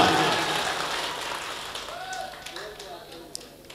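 An audience at a mushaira poetry gathering breaks into applause, a dense rain-like clatter that starts strong and gradually fades, with voices emerging as it dies down.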